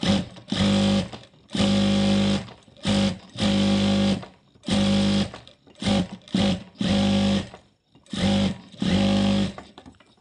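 Sewing machine stitching fabric, close and loud, running in repeated bursts of about a second each with short pauses between, no talking.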